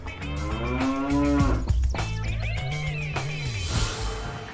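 A cow lets out long, deep moos, two drawn-out calls with sliding pitch, close and loud with no talking over them.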